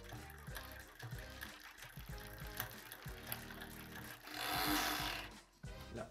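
A road bike's crank is turned by hand while an electronic rear derailleur shifts, giving rhythmic mechanical clicking and whirring, then a louder burst of freewheel buzz before a brief dip.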